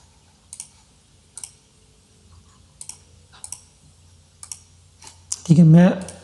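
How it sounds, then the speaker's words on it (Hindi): Computer mouse clicks while working in Camtasia Studio, several sharp, isolated clicks in irregular pairs spaced through quiet, close and crisp, with a voice starting to speak at the end. "ये देखो मैंने लोगो पे क्लिक किया"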